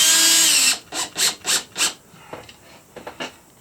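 A power drill drives big screws into wall studs in a quick series of four or five loud, close whirring bursts, followed by a few fainter, shorter clicks and whirs.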